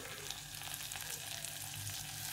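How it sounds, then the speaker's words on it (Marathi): Chopped tomato, garlic and green chili fry in a hot pan for dal baati, a steady close sizzle and crackle with no voices. "आणि आता टोमॅटो टाकते आणि लसूण आणि जे हिरवी मिरची ते सुद्धा टाकून घेते मी"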